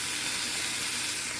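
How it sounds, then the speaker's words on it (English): A rib fries in a pan on an inverter cooking system in a van, giving a steady, close, bright sizzle with an unbroken hiss and no voices. "I'm just frying up the rib."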